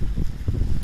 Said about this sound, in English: I'm feeling a gust of wind